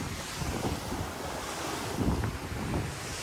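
Rough sea surf surges and breaks around a fishing boat out on open water during a mackerel trip after rain, with steady wind buffeting the microphone and periodic swells rising louder throughout, no voices.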